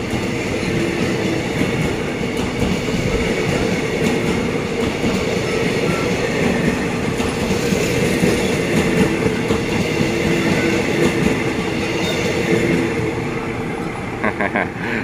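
Passenger train number 31 rolls past steadily at Ban Khu Bua, a loud continuous rumble of wheels and carriages with rail clatter and faint squeals throughout.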